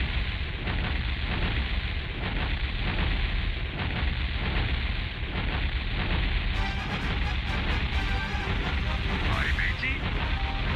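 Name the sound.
ship cannons firing and explosions in Warcraft II video game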